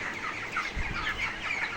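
Broiler chickens in a farm shed with sand bedding during hot weather, clucking softly in a continuous low chatter from several birds, fairly quiet and close, with no voices.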